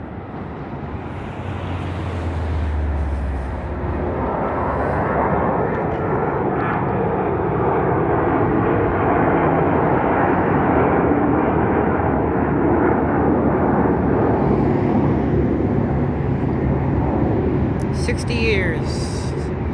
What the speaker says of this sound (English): you can hear the planes taking off from over there